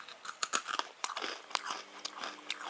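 Crunchy party ring biscuits being bitten and chewed close up, with a rapid, irregular series of sharp crisp crunches, loud and alone without talk.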